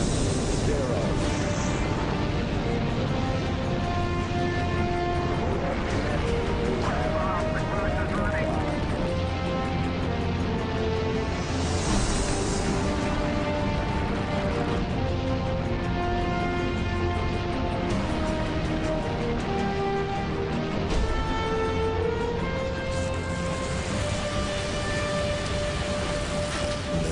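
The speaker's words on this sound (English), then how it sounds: "We have ignition sequence start. The engines are on." A crewed rocket's engines roar at liftoff in a dense, unbroken rumble lasting the whole stretch, loud and sustained with crackling bursts layered on top.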